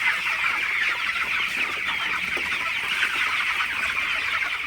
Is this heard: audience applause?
no